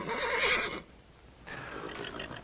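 A horse, a big black one, whinnies loudly in a long wavering neigh, then a second, softer whinny follows after a short pause, with no speech over it.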